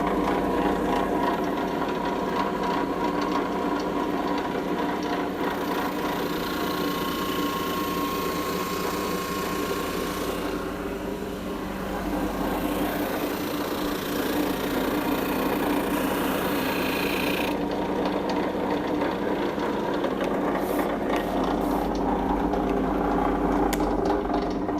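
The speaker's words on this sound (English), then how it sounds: "The rough sanding is done for me." A thickness sander runs steadily as it sands a piece of wood, a loud, continuous mechanical whir and grind that stays close and fairly even throughout, with a brief dip in intensity partway through.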